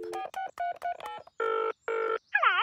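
Cartoon telephone sounds in Peppa Pig: a quick run of dialing beeps followed by two long electronic ring tones and a warbling chirp, clear and close with no talking.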